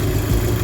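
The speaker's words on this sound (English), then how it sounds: "let the engine get up to operating temperature" A 2.0 TFSI engine in a Mk2 Audi TT idles just after a timing belt replacement, with a loud, steady low-pitched rumble and even vibration, heard close up with no talk.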